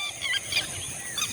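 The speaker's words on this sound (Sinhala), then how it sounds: "කුරුල්ලන්ගේ සද්ද ඇහෙනවා." Birds near a hotel cabana in Sigiriya, Sri Lanka call in a brief burst of honking, goose-like notes, moderately distant over a steady outdoor background hiss.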